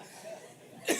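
A single short, sharp cough from a person indoors, arriving near the end after a moment of quiet room tone.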